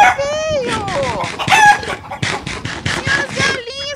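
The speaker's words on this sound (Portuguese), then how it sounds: "Minhas galinhas, vocês gostam de couve?" A flock of chickens gathers to eat kale, and overlapping clucks, squawks and crowing calls come close and loud in busy bursts with no break.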